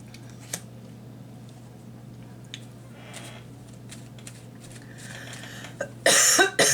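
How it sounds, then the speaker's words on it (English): A single sharp cough near the end, loud and close, over a quiet room with a steady low hum and faint shuffling. "Oh, I haven't coughed all day."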